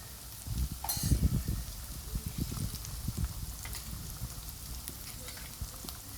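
Coriander powder, along with fenugreek and mustard powders, fries and is stirred in a pan for chicken pickle, with a crackling burst of sizzle near the start settling into steady frying and scraping stirs, close and alone.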